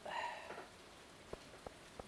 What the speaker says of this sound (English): I hear the rain outside.